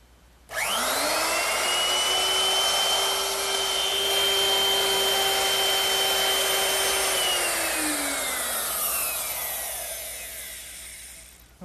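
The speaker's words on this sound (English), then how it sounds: "I'm going to use my router with a straight cutting bit and a fence" Wood router fitted with a straight cutting bit and fence, cutting a tongue into a trestle table board: a loud, steady high motor whine spins up, holds through the cut, then winds down near the end, with no talking.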